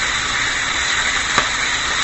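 Sausages and Canadian bacon sizzle in a pan for an Irish breakfast, a steady bright frying hiss holding evenly throughout with a couple of faint clicks.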